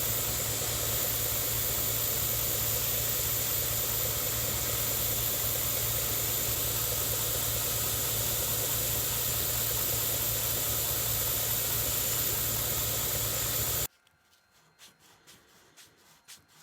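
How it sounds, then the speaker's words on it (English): A belt grinder running a fine belt while shaping a faceted knife handle gives a loud, steady, close whirring hiss for about fourteen seconds, then cuts off abruptly into near silence broken by a few faint taps. "So I want to take it back to the grinder on a fine belt and just walk that back."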